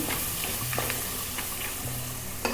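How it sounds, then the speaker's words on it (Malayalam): Onions being stirred and tossed in a hot pan for a vegetable lunch-box dish, a steady low sizzle with scraping spoon strokes and a sharper clink near the end, no voices. "ഉള്ളി ഇട്ട് കൊടുത്തതിന് ശേഷം നമുക്കൊന്ന് മിക്സാക്കി കൊടുക്കാം"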